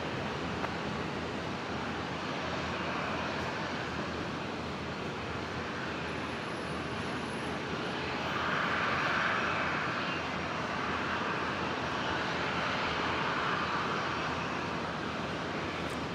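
Jetstar Airbus A320 jet bound for Melbourne taking off from runway 01 right at Brisbane International Airport, a long, steady engine roar heard from a distance that swells slightly midway, with wind-like rushing underneath.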